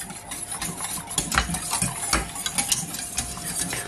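Béchamel sauce being stirred in a pan over gas heat, with a utensil scraping and swishing against the pan in steady, close strokes and occasional sharper knocks. No one speaks.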